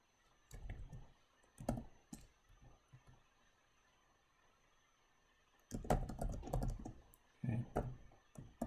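PowerShell code being typed on a computer keyboard: two bursts of quick, close keystrokes separated by a quiet pause of a few seconds, with no talking.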